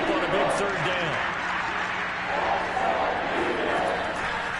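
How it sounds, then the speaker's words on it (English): A stadium crowd in the Madden football video game roars and cheers steadily ahead of a big third down, a broad sustained wash of noise with a voice talking over it. "The crowd getting into it as we come up on a big 3rd down."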